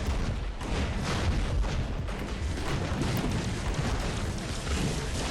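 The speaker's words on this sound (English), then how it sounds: "Who's the guy firing the rockets?" Rockets and heavy weapons firing in the robot combat game War Robots, a dense, continuous barrage of booming blasts and crackling fire that fills the whole clip at a steady, loud level.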